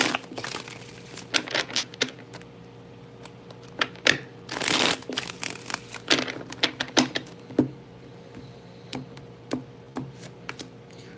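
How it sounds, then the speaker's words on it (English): Tarot cards being shuffled in the hands, a run of quick papery riffles and slaps in irregular bursts with brief pauses, close and fairly quiet, with no talking. "Two more shuffles, all right."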